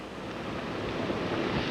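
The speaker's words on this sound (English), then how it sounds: "All night long, this wind pounded like this, and these limbs are falling around here." Strong Hurricane Georges wind roaring and buffeting steadily in Mobile, a loud broadband rush of gusting air with no voices, constant and close to the microphone.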